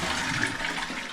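A household toilet flushes with a steady, loud rush of water that holds evenly for the whole brief moment, heard close up.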